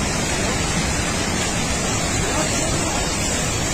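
Flooded river torrent in Dharamshala after a cloudburst, a dense, unbroken roar of rushing water that fills the whole clip at steady, loud intensity, with no gaps or distinct events.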